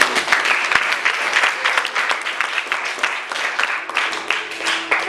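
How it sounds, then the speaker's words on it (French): A church congregation claps and cheers in acclaim of the Lord, dense uneven applause with sharp individual claps and some vocal calls mixed in. "On acclame le Seigneur."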